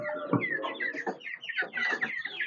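Chickens in a backyard coop cluck and chatter in quick, overlapping bursts, close and moderately loud, with several birds calling at once and no talking.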